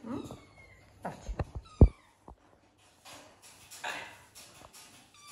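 A kitten meows indoors in a few short, close calls mixed with household knocks and brief thumps, then quieter rustling.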